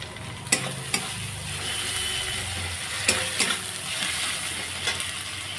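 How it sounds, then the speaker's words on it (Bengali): Onion with ginger garlic paste fries in a pan for Bengali shoal fish kalia, a steady close sizzle with a few sharp spatula taps and scrapes spread through it and no speech. "পেঁয়াজটা একটু ভালো করে ভেজে নিই।"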